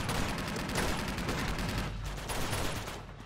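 Machine gun fire in the video game Uncharted 2: a dense, continuous burst of rapid shots with crackling noise that runs almost the whole time at a steady, loud level.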